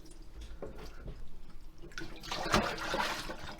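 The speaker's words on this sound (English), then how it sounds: "Now I'm going to just let it drain." Water trickles and splashes as it drains from a raw whole turkey in a kitchen sink, a soft steady flow that swells into a louder splashing burst partway through, with no talking.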